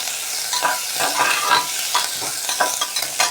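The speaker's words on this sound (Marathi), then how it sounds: "थोडीशी कोथिंबीर कापून घेतलेली आहे ती घालूया आपण." Chopped coriander goes into a sizzling tempering in a pan for masale bhat with peas and peanuts. A dense, continuous frying hiss comes with brisk stirring strokes close up and no voices.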